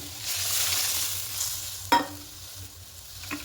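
Eggplant frying in a pan hisses softly as mustard paste and rinse water are poured in, with a sharp splash-like burst midway and a smaller knock near the end, close and without talk.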